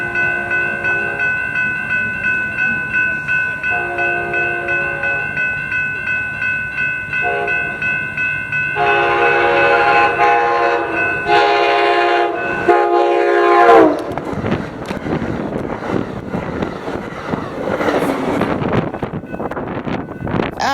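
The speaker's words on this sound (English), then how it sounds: "Our next train would be Amtrak 587 with Cab Car 6903 leading" Amtrak 587 with Cab Car 6903 leading passes Carlsbad Village station: its horn sounds in repeated blasts, then holds one long, loud blast as the train nears, giving way to a rushing rumble of cars and wind buffeting close by.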